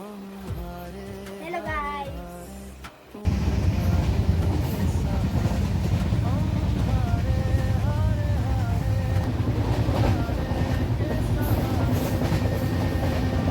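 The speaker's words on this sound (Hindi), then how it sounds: "अब ट्रेन चल पड़ी है" A moving passenger train rumbles with a dense, steady rattle and clatter heard from inside a carriage, beginning abruptly after a few seconds of quieter background sound and continuing loud to the end.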